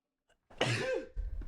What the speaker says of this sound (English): That was a hefty sneeze.